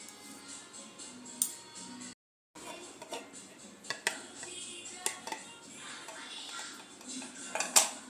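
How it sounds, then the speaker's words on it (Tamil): A knife scrapes and clinks around the edge of a dish of caramel pudding, a string of light taps and scrapes against the dish, close and fairly quiet, with a brief silent gap partway through. "இதை வந்து இப்படி ஓரமாக வந்து கட் பண்ணி விட்டுக்குருவோம்."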